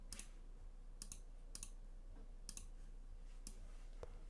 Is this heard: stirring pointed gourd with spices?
no